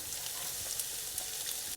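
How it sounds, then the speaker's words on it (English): Mustard seeds and onion sizzle and crackle steadily in oil in a pan, with small pops scattered through a soft, continuous frying hiss. "once they kind of start to sizzle up, we're going to add the onion"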